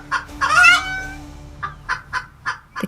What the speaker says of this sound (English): and the hen clucked loudly